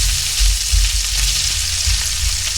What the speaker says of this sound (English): It's a nice hot pan. You can hear that sizzling